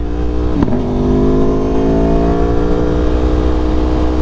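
A motorcycle ridden at about 60 mph toward a braking marker, its engine a loud sustained drone with steady rising harmonics and a brief knock near the start, close and continuous with no talk.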